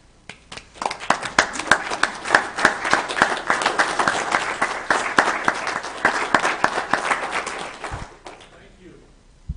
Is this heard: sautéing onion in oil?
no